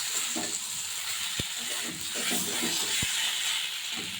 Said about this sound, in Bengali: দেখুন মশলাগুলো আমার কষে এসেছে, প্রায় ভাজা হয়ে গেছে